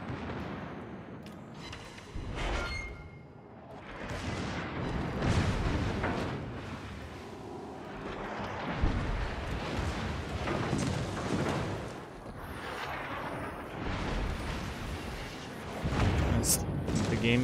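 A battleship's secondary guns fire in World of Warships as repeated booming volleys in uneven bursts over a constant low rumble, with someone talking over the gunfire throughout.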